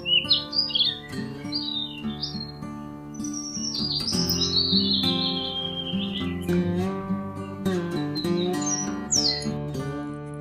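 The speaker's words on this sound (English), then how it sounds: "This is sparrow." Sparrow chirping in quick bright bursts, a run of sharp tweets early, a longer chatter in the middle and more calls at the end, all over a continuous tonal musical backing.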